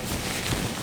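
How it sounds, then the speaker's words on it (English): Kleenex tissues crumpled and rustled right up against a microphone, a brief dense papery crackle filling the short moment. "That is the sound of Kleenexes."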